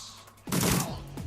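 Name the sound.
gunshots from the video game Shadowrun Returns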